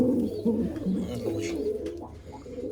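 Domestic pigeons coo close by in low, repeated throaty calls, with a few soft chirps mixed in and no talk over them.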